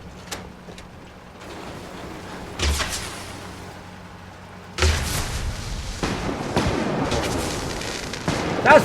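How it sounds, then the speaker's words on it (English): Fireworks in Fallout 4 go off in a series of booming bursts, with a thump near the three-second mark and a louder, denser volley of crackling blasts from about five seconds onward. "Fireworks just for you"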